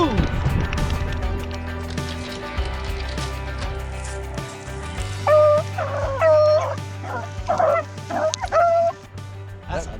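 A dog barks in sharp yips and whimpers in rising cries, loud and close outdoors, while someone talks and whoops over it during a winter crappie fishing outing.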